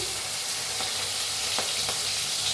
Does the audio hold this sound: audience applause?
no